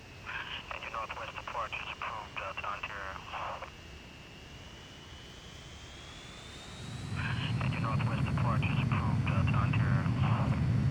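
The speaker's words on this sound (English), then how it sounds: "Listen to the ATC though, Max." Crackly air traffic control radio transmissions in two bursts, separated by a steady aircraft engine hum that grows into a loud rumble, in the video game Transport Fever 2.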